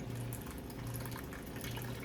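Tap water steadily filling a Brita filter pitcher, a continuous close, even rush with a low hum beneath it, no talking.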